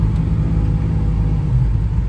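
A 1967 Chevrolet Camaro's engine running steadily while driving, a deep, loud, even rumble heard close up from inside the car.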